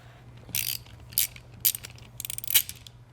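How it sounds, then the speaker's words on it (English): Screws with locking helicoil inserts are backed out of an Eaton Carter 64200 ground fueling light-duty nozzle, giving several short bursts of metallic ratcheting and clicking with brief quiet gaps over a steady low hum. "it does take a little bit of force to remove the screws from the nozzle"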